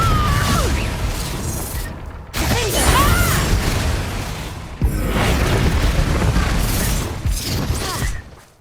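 A Confringo fire spell explodes in Hogwarts Legacy on PS5, a loud blast followed by rumbling, whooshing game effects and crackling debris that fill the whole stretch, with several renewed bursts and no talking.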